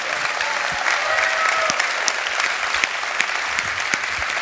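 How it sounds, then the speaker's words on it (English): Enthusiastic audience applause during a tech company CEO keynote at Computex 2024 in Taiwan, a loud, dense crowd clapping that holds steady throughout. "give him an applause"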